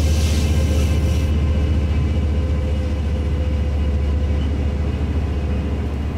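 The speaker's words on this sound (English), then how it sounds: "Here, look, we have another train coming through." A train rolls past in Train Sim World 4 with a heavy, continuous low rumble and steady mechanical drone that stays loud and even, with no voices over it.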